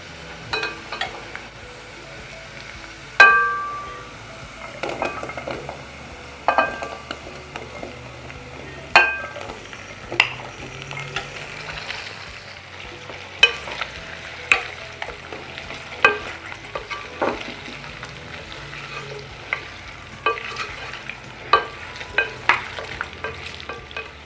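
Zucchini goes into a pan over onions already fried yellow for a tashreeb dish, with a soft continuous sizzle and frequent sharp utensil scrapes and clicks as it is stirred, no talking.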